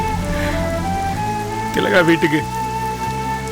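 Steady rain patters outdoors in a Tamil TV drama scene, a continuous wash beneath swelling background music, with people talking over it.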